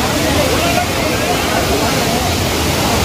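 Aagayagangai waterfall in the Kolli Hills, rushing water pouring down in a loud, steady roar that fills the whole clip with dense, unbroken noise.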